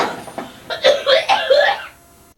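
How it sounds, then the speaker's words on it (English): A short burst of several harsh, raspy coughs close to the mic, rising in strength and then trailing off. "me coughing usually is a holiday tradition"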